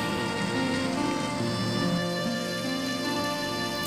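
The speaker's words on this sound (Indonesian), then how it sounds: "Dan hujan kian deras mengguyur bumi." Heavy rain pours down at night in a steady, even hiss, constant and moderately loud with no voices over it.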